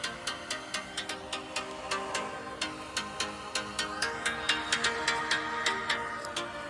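A Samsung Galaxy S22 Ultra 256GB ringtone plays: a bright, rhythmic melody of short plucked notes repeating at a steady quick pace, moderately quiet, with no talking over it.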